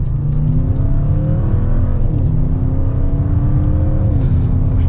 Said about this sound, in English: So as we come around this turn, we can do another acceleration.